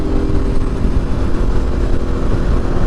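A Suzuki TU250X motorcycle cruising at higher road speed, its small single-cylinder engine giving a steady, continuous drone under broadband wind rush, with no voices.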